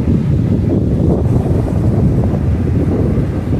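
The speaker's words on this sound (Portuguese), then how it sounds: "Umas ondas bem graúdas, apesar de não estar muito grande hoje." Waves roll in steadily on a beach across from Chaves on Marajó island, where brackish water meets the ocean, under constant loud wind buffeting the microphone.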